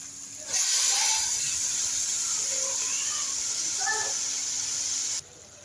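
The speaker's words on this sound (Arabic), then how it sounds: "السبانخ اتشوحت مع البصله اهو والثوم اهو زي كده" Spinach sautéing with onion and garlic in a hot pan, a loud continuous close hiss and sizzle that holds steady for about five seconds, then cuts off abruptly.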